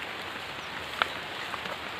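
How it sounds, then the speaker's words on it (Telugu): Light drizzle falls on a misty morning over hilly tribal farmland, a faint, steady hiss of fine drops with one sharper single drip standing out briefly. "ఇది కొద్దిగా పొగ మంచు పట్టి శినుకులు కూడా పడుతుంది"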